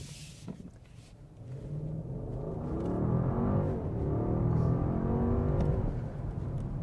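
A Mercedes-Benz EQS electric car accelerating in a straight line, a steady rising rumble with a smooth tonal whine that swells and holds, heard alone without talk.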